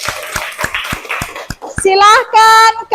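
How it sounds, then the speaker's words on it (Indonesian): Children in a classroom clap for group B after their answer is marked correct, a quick run of sharp claps followed by loud excited kids' voices. "Kasih tepuk tangan untuk kelompok B."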